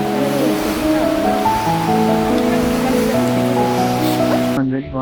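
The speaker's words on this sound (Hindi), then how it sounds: "सालों भर एक झरने का पानी यहाँ पर गिरता रहता शिवलिंग के ऊपर" A waterfall pours continuously onto a Shiva lingam at the Anjani Mahadev temple in Solang Valley near Manali, a loud, steady rush with tonal voice-like or musical sounds over it. The sound cuts off abruptly at the end.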